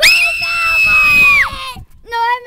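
Several people let out a loud, sustained group scream that cuts off abruptly, followed after a short pause by a brief higher cry.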